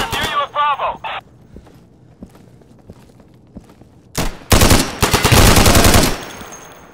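Gunfire in the Insurgency video game: a short automatic burst, quiet stretch with faint footsteps, then heavy rapid fire bursts, close and loud, with voices shouting in between.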